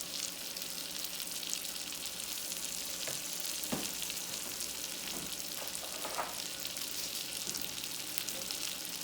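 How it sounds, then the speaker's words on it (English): Garlic and vegetables cook in a pan on a keto-style salmon and zoodles dinner, a soft, even sizzle running throughout with scattered faint clicks and a few utensil taps, no one speaking. "So I pretty much cook a lot of my vegetables and meats with garlic."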